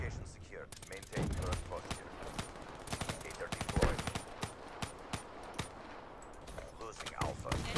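Rapid gunfire in Black Ops 3, played on PC, comes in dense bursts of sharp cracks spread through the clip, with some scattered single shots, at a fairly low overall level.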